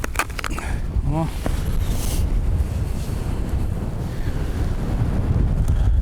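Strong wind gusts roar across a frozen lake during ice fishing for perch, a loud constant rush battering the microphone throughout, with brief voices near the start.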